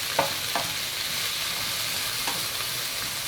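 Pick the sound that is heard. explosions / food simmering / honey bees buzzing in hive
food simmering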